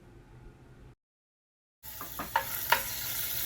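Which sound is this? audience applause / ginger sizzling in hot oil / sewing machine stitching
ginger sizzling in hot oil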